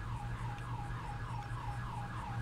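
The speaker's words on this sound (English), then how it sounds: "I hear a siren." Wailing emergency vehicle siren, likely a sheriff's car, rising and falling in a steady repeating cycle over low engine and traffic rumble, fairly distant and continuous throughout.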